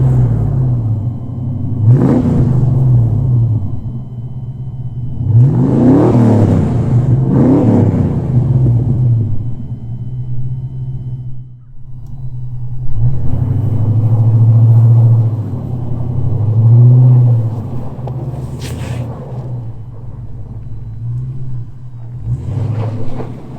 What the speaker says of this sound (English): you can actually hear those Flowmaster mufflers right there